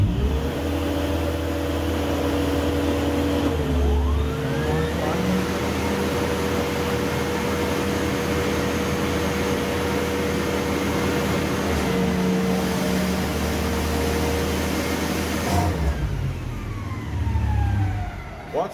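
PowerBoss Nautilus HD industrial floor scrubber switched on and running, a loud steady motor whine and hum that holds level, then shifts as the brush head lowers and winds down near the end.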